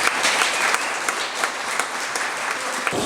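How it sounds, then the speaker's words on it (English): A big round of applause from a crowd at Shadowfest 2023, an event honouring the designer of the Shadow microlight aircraft; dense, steady clapping fills the whole stretch at even loudness. "a big round of applause"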